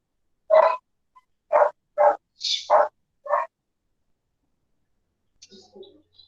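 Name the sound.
dog barking at home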